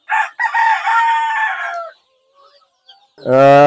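A native-breed rooster on a poultry farm crows loudly and close by, then falls quiet before a second crow starts at the end.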